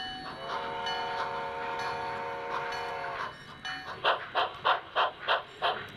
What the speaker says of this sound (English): Northbound trains steam through the rail yards, heading for Ukiah over 100 miles away